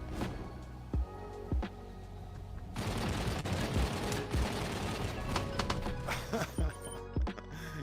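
Gunfire rings out in a shooting video game: sharp, punchy shots fired singly and in quick pairs, with a denser burst of firing in the middle, loud and close against a busy background.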